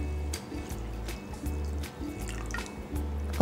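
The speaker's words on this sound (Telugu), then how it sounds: "ఒక అరగంట ముందు ఇలా నీళ్లు పోసుకొని నానబెట్టి పక్కన పెట్టుకోవాలి." Water is poured onto washed basmati rice to soak it before making biryani, giving a soft, close splashing and dripping trickle that comes and goes in short pulses.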